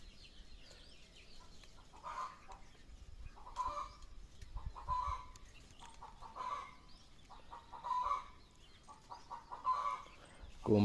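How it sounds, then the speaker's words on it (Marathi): A farmyard hen clucks after laying an egg in a village farm setting. The loud clucks repeat about every second or so over quiet background noise, with no one talking. "बहुतेक कोंबडी वरडते"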